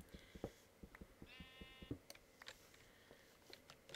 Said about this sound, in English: Sheep scared the living daylights out of me.